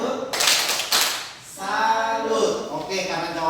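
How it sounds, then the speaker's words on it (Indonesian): A short burst of group clapping in a rhythmic pattern, followed by voices chanting along. "Kita tepuk salut untuk Rizka"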